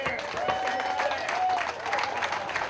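A crowd at dragon boat races claps in a sustained round of applause, fairly close and dense, with cheers and chatter blended underneath.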